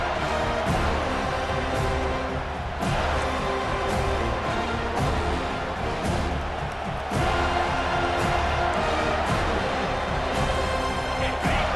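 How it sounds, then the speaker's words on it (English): Home crowd in EA Sports College Football 25 roars steadily on a third-down defensive stand, a dense, loud stadium wash that swells and dips over a low rumble throughout. "Here comes this home crowd as the defense tries to get off the field on 3rd down."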